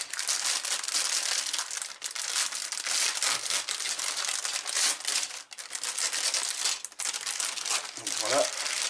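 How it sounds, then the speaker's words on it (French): A plastic bag holding model kit sprues is opened, giving loud continuous crinkling and rustling up close, with short pauses and a small knock near the end. "on va ouvrir ces grappes"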